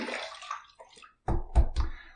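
Water splashes during a rinse after a wet shave with a barbershop shave soap, a short run of sloshing and then three distinct close splashes, fairly loud, with no talking.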